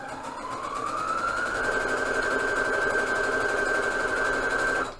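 A sewing machine stitches fabric with a long stitch to gather it. The motor whines up in pitch, then holds a steady, loud, close hum before cutting off at the end.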